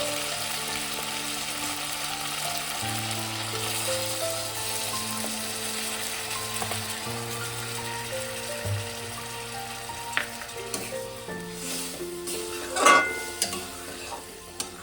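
Paneer manchurian sizzles steadily in a pan as a premixed soy sauce and cornflour slurry goes in, with gentle stirring scrapes and a brief louder hiss, under a continuous background music bed and no talk.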